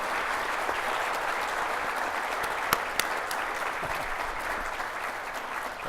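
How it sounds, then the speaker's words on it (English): An audience at a state governor's conference legislative panel applauds the panelists, a steady wash of many hands clapping throughout, even and sustained, with a couple of sharper claps standing out. "round of applause for their"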